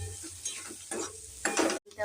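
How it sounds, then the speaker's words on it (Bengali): Onion and egg stir-fry in a pan for chowmein. Short bursts of sizzling come with scraping and clattering from a spatula, close and fairly quiet, in a brief stretch with no talking. "এটা হালকা ভেজে এর মধ্যে দিয়ে দিলাম একটা ডিম। আবার একটু ভাজা ভাজা করব।"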